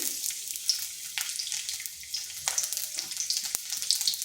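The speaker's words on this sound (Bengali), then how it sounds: "কড়াইতে আবারও তেল দিয়ে দিচ্ছি। দিয়ে দিচ্ছি রসুন কুচি" Chopped garlic fries in hot oil in a wok, a close, bright crackling sizzle running throughout with small pops and stirring scrapes, no voices.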